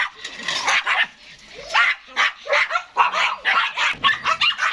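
An eight-month-old German shepherd puppy barks close by in a rapid series of loud, sharp barks with short gaps, some rising into higher yips.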